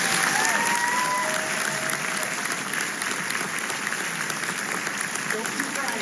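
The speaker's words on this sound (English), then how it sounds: "Let's give them a round of applause." A crowd at a Disneyland Ambassador Program event gives a sustained round of applause, the thick clapping joined by a few whistles and indistinct crowd voices, holding at an even level.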